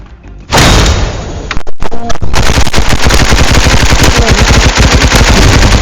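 Rapid automatic gunfire from a gun in the Roblox game Hypershot, loud and close, with a brief burst and pause before a long, steady stream of dense shots.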